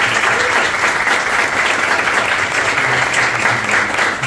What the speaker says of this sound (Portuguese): Uma salva de palmas para Zé Nigro.